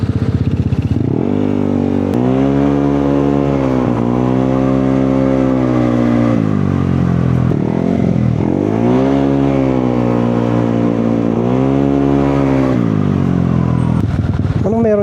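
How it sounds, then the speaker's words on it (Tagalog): Engines rumble and rev loudly nearby at a busy outdoor event with many vehicles, rising and falling in repeated throttle surges, with voices talking underneath. "At parang ang daming sasakyan."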